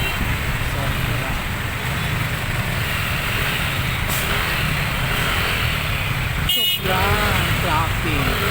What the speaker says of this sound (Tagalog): Sobrang traffic dito sa Quiapo.